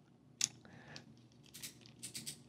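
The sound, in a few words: fishing reel drag clicking, Fishband Clamber BFS reel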